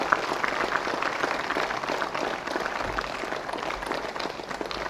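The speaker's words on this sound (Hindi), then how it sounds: "एक बार जोरदार तालियां हो जाए" Steady applause from an audience at a yoga session, a moderately loud wash of many hands clapping that holds evenly throughout, with no voices standing out.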